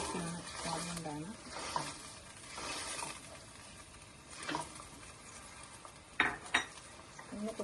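Aval (beaten rice) mixed with coconut is stirred in a pan with a spoon, giving intermittent scraping and clinking strokes over a faint sizzle, with a few sharper knocks against the pan near the end.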